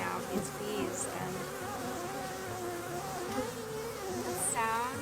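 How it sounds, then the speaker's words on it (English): A cluster of bees hums in a continuous close buzz, with individual bees whining past overhead now and then. "I'm totally in awe right now of these bees"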